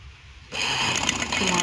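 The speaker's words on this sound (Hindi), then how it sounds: "किनारे की सिलाई लगाएंगे।" A sewing machine starts up partway through and runs fast and evenly, stitching along the edge of a kurti, close and fairly loud after a brief quiet start.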